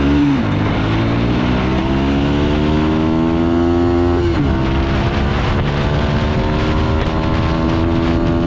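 A Bajaj Pulsar NS160 motorcycle engine revs hard and pulls away, its pitch climbing through the gears with a brief dip between shifts, loud and close throughout.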